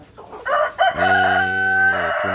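A rooster on a poultry farm gives a single loud, close crow after a few short clucks from the chickens.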